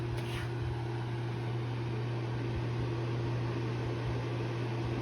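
A portable electric ceramic space heater runs steadily with a constant fan whir and a low electrical hum, close and unbroken, with no voices.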